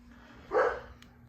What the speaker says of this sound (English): No, that's Cooper barking.